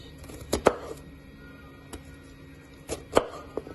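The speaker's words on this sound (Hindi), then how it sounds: "ये चुकंदर मैंने लिए, इसके भी स्लाइस" Knife slicing through beetroot on a cutting board, a few sharp separate cuts spaced irregularly, close and fairly quiet with no talking.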